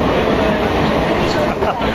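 Passenger train ride through monsoon rain between Mumbai and Mahad, a steady loud rumble of the moving coach with a voice talking briefly over it.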